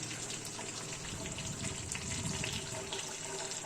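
Water being poured into a steel pot while making rasam, a continuous gushing, splashing stream at close range with no other sounds.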